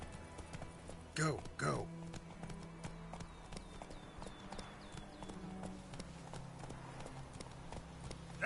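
Roach the horse in The Witcher 3 gallops with rhythmic clip-clopping hooves over a steady game-world backdrop, with a brief loud burst of hoofbeats; someone speaks briefly over the running horse.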